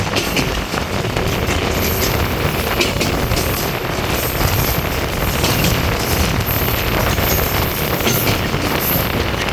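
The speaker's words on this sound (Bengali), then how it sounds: "একে বেঁকে বিভিন্ন কার্ভ নিয়ে আমাদের ট্রেন পুকুরিয়ার দিকে ছুটে চলেছে" A passenger train runs along the Faridpur–Bhanga line, curving toward Pukuria, with a loud, steady rumble of wheels and carriages mixed with wind buffeting, close and continuous and with no voices.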